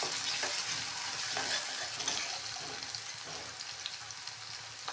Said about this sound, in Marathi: सर्वप्रथम आपण तेलामध्ये कांदा टाकून घेऊयात हे आलं लसूणची पेस्ट टाकून घेऊयात